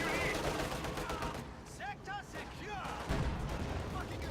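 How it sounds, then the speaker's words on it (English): An M4C Sherman tank takes a Panzerfaust hit in a World War II strategy game, amid a dense, continuous din of battlefield gunfire and explosions with a caster talking over it. "Panzerfaust connecting with the M4C Sherman right there."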